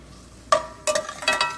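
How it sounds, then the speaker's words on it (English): A spoon stirs vegetables frying in sesame oil in a pan, giving three short scraping, sizzling strokes close by with quiet between them. "I'm going to give it a nice stir around, because I want all of the"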